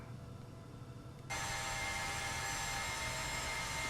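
Jet engines of a Carenado Falcon 50EX running in the Prepar3D flight simulator, a steady loud whine and roar that jumps sharply in level after a quieter opening hum and then holds constant.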